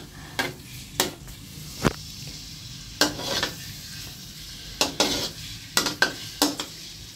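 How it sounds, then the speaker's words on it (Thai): Garlic fries in a pan for stir-fried glass noodles with pork and egg, a soft sizzle beneath irregular sharp clanks and scrapes of a spatula against the pan, close by. "เจียวกระเทียมให้มันหอมก่อนจ้ะ"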